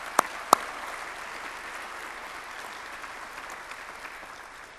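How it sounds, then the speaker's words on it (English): Audience applauds park rangers serving as color guard at a change of command ceremony; two sharp, close claps stand out at the start over a steady, moderately distant round of clapping that slowly tapers. "Let's give them a round of applause."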